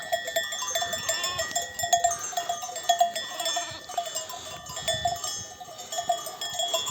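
Sheep grazing on a green mountain pasture in the Bolu Mudurnu highlands, their bells clanking and ringing in an irregular, overlapping jangle at close to middle distance, with soft rustling beneath and no talking.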